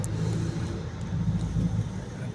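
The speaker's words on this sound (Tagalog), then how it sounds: "nandito tayo ngayon sa may Quezon Boulevard going to Espanya. Ito guys, traffic dito." Heavy road traffic on Quezon Boulevard heading toward España in Manila: a continuous low rumble of car and vehicle engines, close and steady, with no clear voices.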